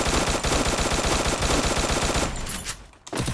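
Rapid, dense gunfire from a clan-war shooter video game rattles continuously and loudly, then breaks off abruptly near the end before resuming.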